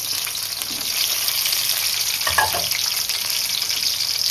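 Onions and green chillies fry in hot oil for a spicy fish curry, a steady, close sizzle running throughout with a brief stirring scrape midway.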